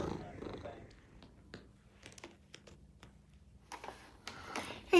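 A house cat purrs softly and close, a low rumbling texture broken by faint clicks and small rustles, with a brief louder noise at the end.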